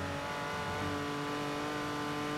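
Game car engine from Forza Horizon, a steady sustained drone with a faint rising rev, close and continuous throughout with no talk over it.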